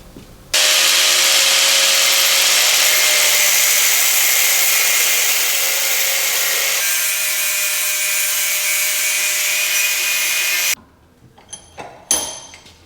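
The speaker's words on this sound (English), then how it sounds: "going to grind that down nice and flat so it's even with this plate" An angle grinder works a metal post flange on a Polaris 9R snowmobile, a loud steady high whine for about ten seconds that shifts pitch midway, then cuts off into a few scattered clanks and taps.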